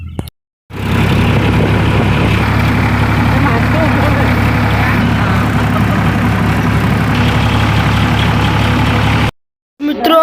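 A tractor engine idles loudly and close, with a steady low rumble that holds evenly for several seconds between short breaks at the start and end.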